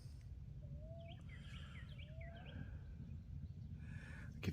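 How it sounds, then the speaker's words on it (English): Wild birds chirp and whistle outdoors, several short calls and tweets scattered over a few seconds, faint and somewhat distant above a low steady background hum. "The birds are pretty active, so that's good."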